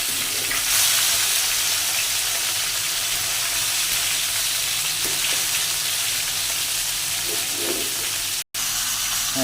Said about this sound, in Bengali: এখন বন্ধুরা আমাদের মাছ ভাজা প্রায় শেষ হয়ে গেছে